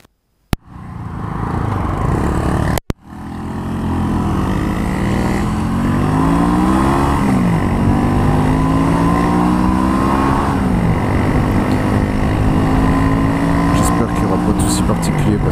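A motorcycle engine idles and revs up close, its pitch rising and falling in sweeps, with a voice talking over the loud rumble.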